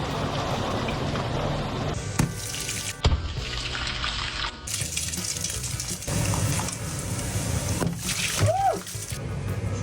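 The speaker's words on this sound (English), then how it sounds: "a major water main burst and flooding part of the city" Water gushing and roaring from a burst water main flooding a city street in Russia, a loud continuous rush with shifting intensity and brief interruptions.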